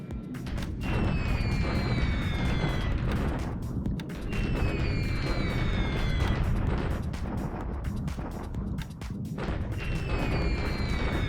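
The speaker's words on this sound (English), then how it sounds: "More bombing. So much bombing." Bombing in a Pacific War strategy video game keeps up a dense, continuous rumble of booms and blasts, with falling whistles repeating every few seconds and no talking.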